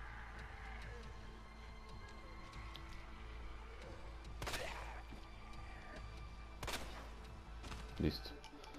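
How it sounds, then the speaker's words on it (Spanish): Gunshots in the Resident Evil 2 Ghost Survivors mode, a few sharp, sudden blasts spaced seconds apart over a low, steady rumbling game background, fairly faint overall. "Dos disparos y se caen."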